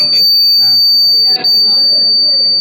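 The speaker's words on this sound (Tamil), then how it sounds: "இப்போ இதில் கையை வச்சுன்னா அலாரம் அடிக்கும்." A laser-sensor alarm on an electronics prototype, set off by a hand breaking the beam, sounds as a loud, steady high-pitched electronic tone that runs through the whole stretch, with voices talking over it.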